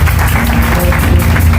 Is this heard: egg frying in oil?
no